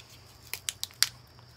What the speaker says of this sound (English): Daddy's trusted scissors.